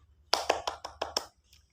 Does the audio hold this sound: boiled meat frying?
no